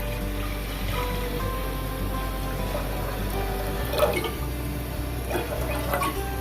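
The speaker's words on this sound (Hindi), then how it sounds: "और इसमें पानी भी मैं ऐड कर दूंगी।" Water pours and trickles steadily into a pot of lentils, a soft continuous splashing with a few louder drips, fairly close and without talk.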